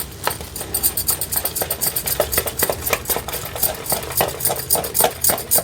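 Sugar syrup for boondi laddu is stirred in a pan with a spoon in quick, repetitive scraping strokes, a close, busy rhythm of clinks and swishes continuing throughout.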